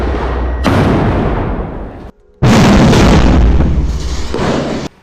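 Loud explosions from an attack on Israeli forces in Gaza: heavy broadband booms with a dense, sustained rumble, cut by a brief near-silent gap before a second loud blast.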